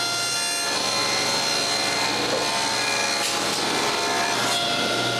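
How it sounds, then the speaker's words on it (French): Saw re-cutting plywood panels after the guide is moved over, a loud, continuous close-up cutting roar with a rough, rasping wood texture that holds steady throughout. "je déplace un peu le guide et je refais les coupes"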